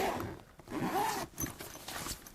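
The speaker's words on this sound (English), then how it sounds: "It's got the zipper in the back." A zipper being drawn on a Sega carry-all bag for the Game Gear, a few soft rasping pulls in short strokes, close and quiet, with no talking.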